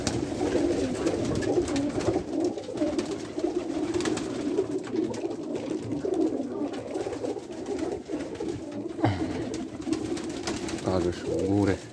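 Racing pigeons at a loft in Sulejówek coo steadily in a low, murmuring chorus close by, with people's voices talking over them throughout.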